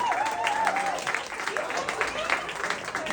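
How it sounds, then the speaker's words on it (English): Applause from a comedy club audience in Williamsburg, steady and fairly loud across the whole stretch, with whoops and voices mixed into the clapping. "Start clapping, making a whole lot of noise for Mr. James Thomison."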